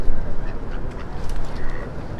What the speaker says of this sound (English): There's a couple ducks down there?